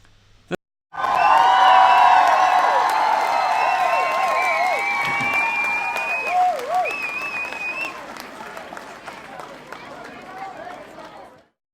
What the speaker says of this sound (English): let's listen to the clapping of the audience